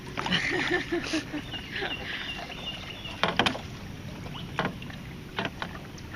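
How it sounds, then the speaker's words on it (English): Water sloshes and knocks inside a kayak in irregular splashes, with a few sharper taps and a voice speaking quietly at times. "You hear that sloshing?"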